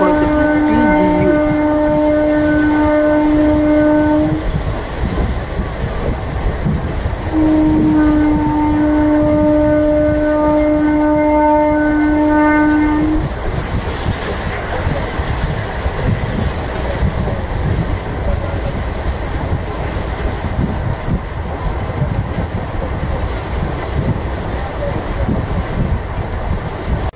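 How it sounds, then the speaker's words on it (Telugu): Train 17231 Narasapur Express rumbles steadily past Tirugupalla halt station, two long horn blasts early on, then continuous loud wheel and carriage noise, heard close from on board. "ట్రైన్ వచ్చేసి తిరుగుప్పల హాల్ట్ రైల్వే స్టేషన్ అయితే స్కిప్ చేస్తుంది"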